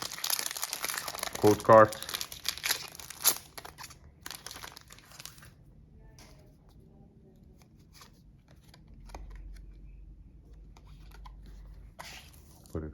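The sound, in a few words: opening a Pokémon card Elite Trainer Box packaging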